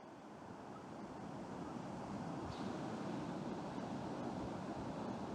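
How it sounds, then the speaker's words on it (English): Ocean surf at Daytona Beach on the Atlantic, a soft, steady wash of waves with wind buffeting the microphone, swelling slightly and staying faint and continuous. "Live from Daytona Beach in the Atlantic Ocean."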